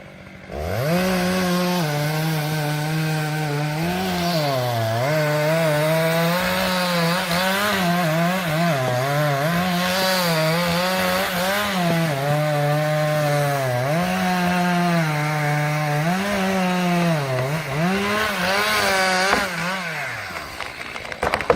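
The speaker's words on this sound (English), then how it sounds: "a worker carefully used a chainsaw to cut into a large tree trunk close to the edge of the" A chainsaw cuts into a large tree trunk at the edge of a rocky drop, its engine a loud, continuous close-up snarl whose pitch dips and rises as the bar bites and eases through the wood.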